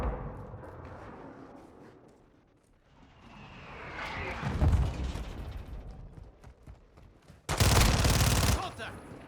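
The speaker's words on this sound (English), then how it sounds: "Taking enemy fire!" Enemy gunfire in Call of Duty Modern Warfare 2 at Hafid Port rattles through a busy battle soundscape, building to a loud, close burst of rapid fire near the end.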